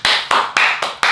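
Hand clapping, four or five sharp, loud claps spaced evenly at a slow, steady rhythm, close by.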